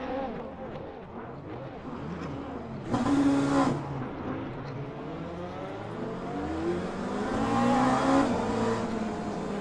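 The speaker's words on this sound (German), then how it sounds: "Und der Motor war schon gestartet." Race car engine in the sim racing game Le Mans Ultimate, revving with harmonic tones that climb and fall through gear changes, loud and continuous for the whole stretch.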